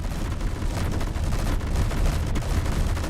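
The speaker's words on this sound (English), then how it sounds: "It's a mobile raised gun platform, which is fucking cool. Which has a crazy rate of fire." Rapid gunfire from a mobile raised gun turret in a video game, a dense continuous stream of loud shots lasting throughout, with no talk over it.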